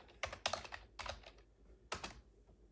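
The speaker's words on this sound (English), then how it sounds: "So I'm just going to type in Orlik Golden Sliced Cellar Label." Rapid bursts of computer keyboard typing as a search query is entered, close and clear, in two quick runs with a short pause between and no talk.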